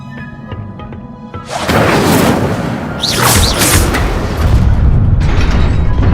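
In Hogwarts Legacy, an Incendio fire spell goes off as a sudden loud whooshing blast, then a sustained roaring burst of flame with crackling, rising swirls that stays loud to the end.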